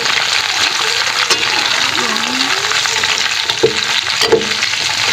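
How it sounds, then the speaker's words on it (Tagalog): Long green string beans (sitaw) frying in a pan for adobong sitaw, a loud steady sizzle with occasional stirring clatter, with a voice talking over it. "pwede nang ilagay ang ating sitaw. Ayan. At haluin lang po natin ng konti"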